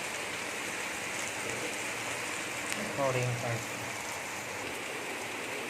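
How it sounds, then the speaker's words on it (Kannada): Heavy rain falls over a village as a steady, moderate wash of patter, with a person speaking briefly over it midway. "ನಮ್ಮೂರಲ್ಲಿ ಫುಲ್ ಮಳೆ"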